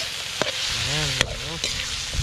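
Shredded ingredient for Capiz-style dinuguan drops into a hot frying pan and sizzles steadily, with a few sharp utensil clicks and brief stirring scrapes over the continuous crackle.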